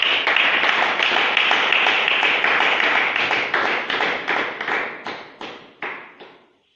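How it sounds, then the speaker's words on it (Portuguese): A church congregation claps together in a dense, loud burst that thins into fewer, slower separate claps before stopping. "Aplauda o Senhor."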